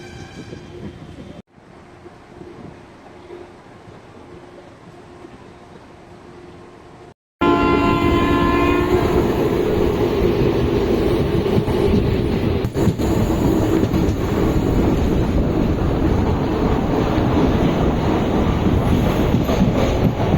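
Passenger train in Tamil Nadu rumbling steadily with clickety-clack, its horn sounding in long tones as the loud, close running noise surges up and continues throughout.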